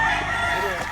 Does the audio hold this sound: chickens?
yes